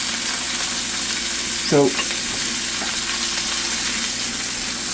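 Burgers and onions frying in a pan give a steady, close sizzle throughout, with a brief scrape of stirring partway through and a single spoken word.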